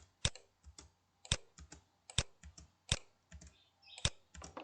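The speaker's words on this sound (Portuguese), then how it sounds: "Digita as coordenadas, Enter." Computer keyboard keys typed in short irregular bursts while entering coordinates into AutoCAD, crisp close clicks with brief pauses between groups and a firmer Enter-like tap among them.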